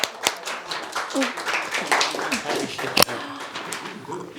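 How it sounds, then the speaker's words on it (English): A small group claps for the first group of participants in a classroom-style session, scattered hand claps with one sharp louder clap near the end, mixed with voices talking over it. "Give them a round of applause."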